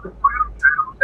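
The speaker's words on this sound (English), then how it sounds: "I really can't hear you over this whistling" A thin, wavering whistle in the spaceflight game Elite Dangerous comes in a few short, fairly loud bursts with small gaps between them, and no speech.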